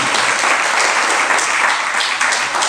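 Audience at a Hindi sermon breaks into dense, steady applause, many hands clapping at once, loud and close throughout with no pause.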